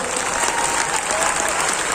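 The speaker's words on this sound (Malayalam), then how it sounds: "ഒരു ശക്തമായ കയ്യടി അദ്ദേഹത്തിന് കൊടുക്കുക" An audience claps steadily in a dense, continuous burst of applause for a guest at a Kerala public event, loud and sustained throughout with a faint murmur of crowd beneath.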